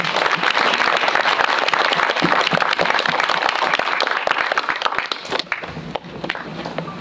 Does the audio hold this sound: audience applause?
yes